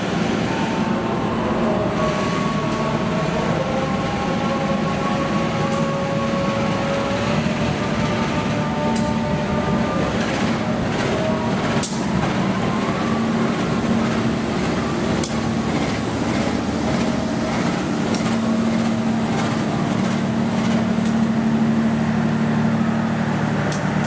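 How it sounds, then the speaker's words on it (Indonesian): The Manahan passenger train rolls into track 4 at a station, a loud steady rumble of wheels and cars with tonal hums, a brief high squeal midway and sharp clanks along the way. "Jalur 4 masuk kereta api Manahan 79F"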